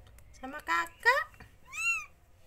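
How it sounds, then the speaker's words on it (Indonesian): A mother cat and her newborn village kittens give several short, thin meows in quick succession, close and fairly soft, with faint background noise. "Pulang kerja, lihat kucing lahiran sudah bersih, sudah dirawat sama anak, sama kakak."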